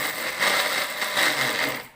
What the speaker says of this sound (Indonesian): Ini blendernya sebentar aja supaya nggak terlalu halus